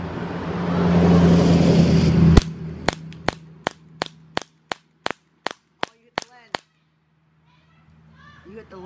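A steady outdoor rush gives way to a single sharp gunshot, followed by a string of about a dozen evenly spaced, close, loud cracks ringing out one after another, then near silence.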